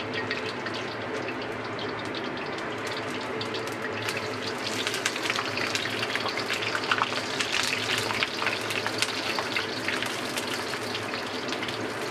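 Eggplant pieces are briefly deep-fried in hot oil, giving a steady, fairly quiet sizzle with dense crackling pops that grow busier midway, with no talk.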